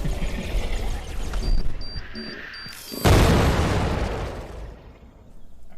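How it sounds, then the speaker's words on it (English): An explosion in the game Discovery: Earth's Shadow booms suddenly midway, a loud deep blast that rumbles and fades over a couple of seconds, preceded by electronic beeps. "That explosion, whatever that was."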